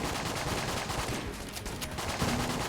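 Rapid gunfire rattles continuously in Enter the Gungeon, a dense stream of shots with small game sound effects mixed in.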